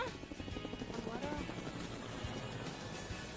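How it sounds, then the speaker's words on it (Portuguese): A helicopter's rotor chop thumps steadily through the clip, fairly loud and close, with a voice briefly audible under the noise. "o helicóptero passou."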